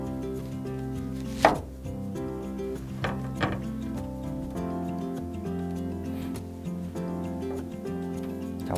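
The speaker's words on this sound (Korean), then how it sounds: "양파를 가지고 밀어 썰기, 그 다음에 찹하는 거, 슬라이스랑 찹하는 거" Knife chopping an onion on a cutting board, a few distinct close knocks spaced apart over a quiet background, no talking.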